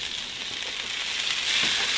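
Potatoes and peppers fry in butter in a hot pan, giving a steady, loud, close sizzle that swells slightly toward the end.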